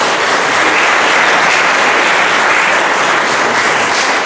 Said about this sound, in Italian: ma l'applauso in mezzo.